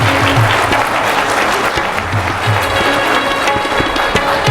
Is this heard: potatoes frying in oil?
no